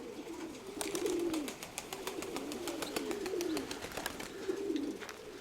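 A young pigeon coos in three repeated, rolling phrases, each swelling and fading, fairly close and steady, with faint clicking in the background and no talk.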